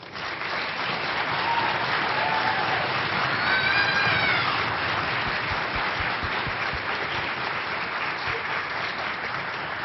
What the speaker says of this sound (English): I'm just going to ask all the students that participated in NYSSMA if you could just please stand for a round of applause